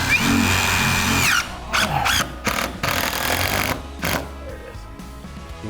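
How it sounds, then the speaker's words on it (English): A power drill drives a screw into a wall stud, whining steadily and then breaking into short bursts of the motor as the screw is pulled in, close up and loud. "You can tell when you hit it because it'll suck that screw right in and pull it in"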